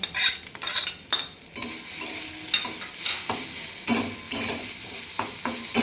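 A spatula stirs paneer cutlet mixture with grated boiled potato in a hot pan, producing irregular scraping strokes over a light steady sizzle, close and fairly loud, with no voices.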